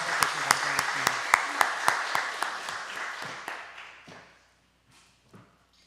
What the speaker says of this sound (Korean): 우리 찬양대 성가대 우리 박수로 대신 감사하겠습니다.